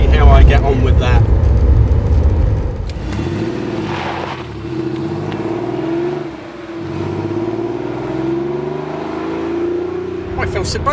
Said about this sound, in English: we're going to take the 911 out now, the 964